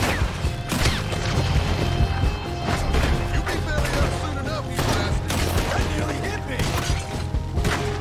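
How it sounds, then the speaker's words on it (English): Dense overlapping gunfire and crashing impacts fill a Red Dead Redemption 2 shootout, a continuous loud barrage of shots with breaking and clattering noise, while voices speak underneath. "Now we can use guns."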